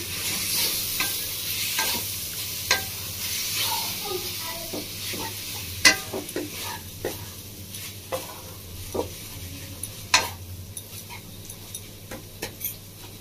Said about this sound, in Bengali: কাজু, কিশমিশ আর আপেল বাটাটা দিয়ে ভালো করে একটু হাতের সাথে মিশিয়ে নেব।